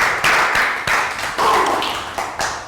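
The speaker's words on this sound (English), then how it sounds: "Round of applause for prayer with glass." A small classroom group of children gives a brief round of applause, several uneven bursts of clapping close by in a Year 3 science lesson.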